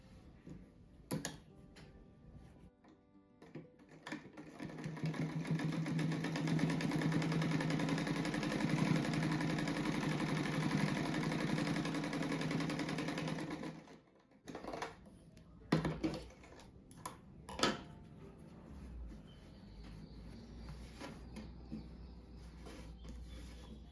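A sewing machine stitches small fabric scraps together for a patchwork rug, its motor whirring steadily for several seconds close by, framed by short mechanical clicks and handling noises before and after the run.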